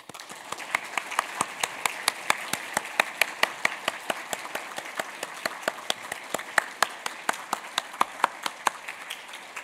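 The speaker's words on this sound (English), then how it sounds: "please give a big applause to them" Applause at the close of a conference, a small crowd clapping in a sparse, uneven rhythm where individual hand claps stand out sharply, continuing steadily for several seconds with no voices.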